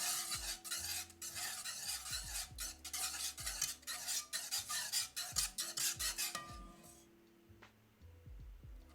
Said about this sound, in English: Start to stir in the cheese